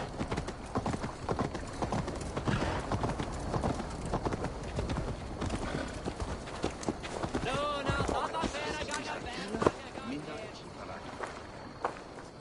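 Horse hooves clop in a rapid, steady rhythm as a mount moves across ground in Assassin's Creed Valhalla, close and continuous, with a voice talking over them and a brief whinny-like sound late on.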